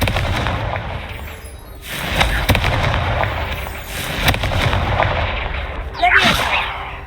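Explosive fire spell blasts in the Hogwarts Legacy video game, a series of loud booming bursts with a crackling, firework-like burst near the end over a steady game background.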